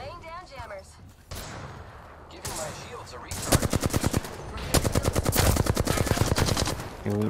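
Gunfire in Apex Legends, a quiet stretch with game voices giving way to loud rapid automatic bursts, one long sustained stream of shots near the end with speech around it.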